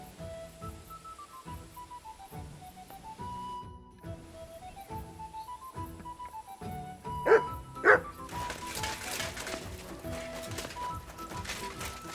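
A dog in the medieval game Kingdom Come Deliverance II barks repeatedly in a steady rhythm, close and fairly loud, over soft background music.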